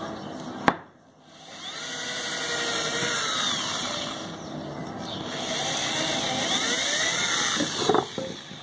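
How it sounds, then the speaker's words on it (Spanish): A power drill with a guide bit boring holes into wood: a sharp click, then a steady, loud motor whine whose pitch sags and recovers as the bit bites, easing off at the end. "le voy a hacer estos agujeros con esta broca"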